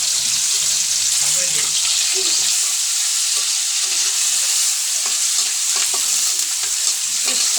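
Cumin seeds sizzle in hot oil in a home kitchen pan as curry preparation begins: a loud, constant hiss and crackle with occasional stirring scrapes and no voices.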